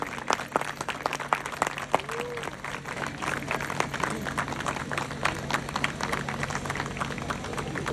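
A crowd claps steadily and densely at a ceremony welcoming a minister with a bouquet, the sustained applause carrying on evenly for the whole stretch with a few sharper individual claps.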